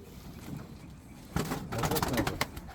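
Soft pigeon cooing rises after a quiet stretch, a few low throaty calls near the microphone over faint background noise.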